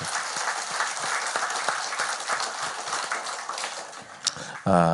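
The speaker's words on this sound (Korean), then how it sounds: "우리 하나님께 박수 한번 올립시다." A church congregation claps together in praise during a New Year service, a full steady burst of applause lasting several seconds before a voice cuts in loudly at the very end.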